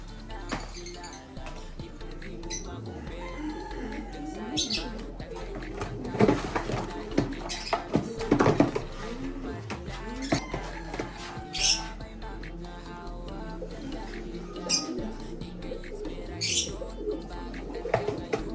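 Racing pigeons give soft, low, repeated coos that are faint and somewhat distant. Occasional sharper squawks and light metallic clinks are scattered across a quiet background.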